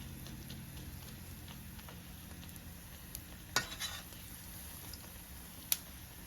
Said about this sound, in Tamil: எண்ணெய் ஊற்றி நல்லா ப்ரெட்டை போட்டு எல்லாம் வறுத்து எடுக்கணும்.